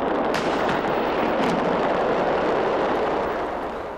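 Massive explosions tear through a fireworks factory holding 2,000 tons of fireworks, a dense continuous roar of blasts with sharp cracks near the start, loud and distant-sounding, without talking.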